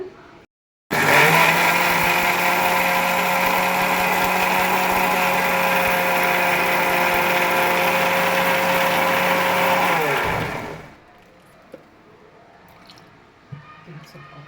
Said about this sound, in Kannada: ಒಂದು ಸ್ವಲ್ಪ ಏಲಕ್ಕಿ ಪೌಡರ್ನು ಕೂಡ ಹಾಕಿ ಇದನ್ನು ಫೈನಾಗಿ ಮಿಕ್ಸಿ ಮಾಡಬೇಕು